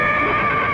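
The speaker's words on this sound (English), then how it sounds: "Well, I thought I heard a horse." A horse whinnies loudly and close, one sustained neigh filling the short moment.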